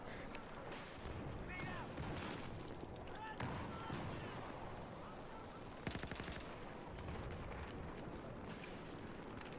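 Rapid gunfire from the player's weapon in the Battlefield 4 video game, dense and continuous bursts of shots mixed with battle noise, with someone talking over it throughout.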